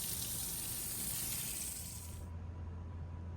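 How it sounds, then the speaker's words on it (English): Garden hose water sprays onto plants in a steady, soft hiss for about two seconds, then cuts out and leaves only a faint low hum. "we're gonna give them a little douse of water here, a little extra water"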